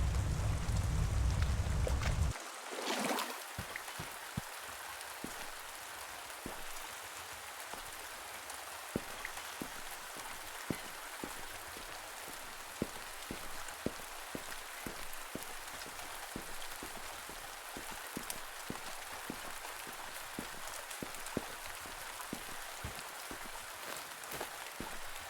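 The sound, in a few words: raindrops falling in water in video game A Merchant's Promise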